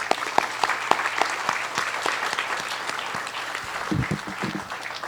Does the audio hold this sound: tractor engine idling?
no